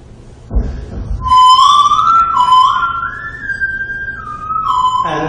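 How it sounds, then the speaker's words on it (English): A man whistles into a microphone, a clear sliding tone that wavers and glides up and down over several seconds after a brief thump, loud and close with no talking. "This is him whistling into a microphone."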